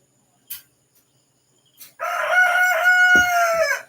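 A rooster crows loudly and close on a farm, one long call following two brief knocks in an otherwise quiet yard.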